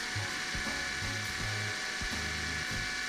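Close-up drilling of mounting holes for a KTM Duke 390 tank bag: a power drill revs in short repeated bursts, whining and stopping several times in a stuttering rhythm.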